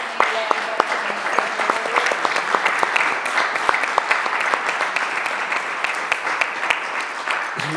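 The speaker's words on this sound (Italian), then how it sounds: "Quindi vi ringraziamo con un applauso." An audience at a festival talk gives a full round of applause, many hands clapping in a dense, lively patter with sharp individual claps standing out, steady from start to end with no voices over it.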